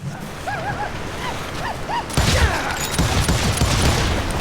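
Gunfire bursts in the Wild West video game Call of Juarez, loud and sharp in a rapid cluster from about two seconds onward over a busy game soundscape, after quieter tones at the start.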